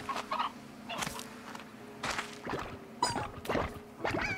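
Hens clucking in the game Slime Rancher, a series of short, fairly quiet clucks and squawks spaced about every half second over a faint background hum.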